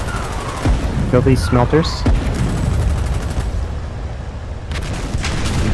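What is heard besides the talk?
gunfire in the video game Foxhole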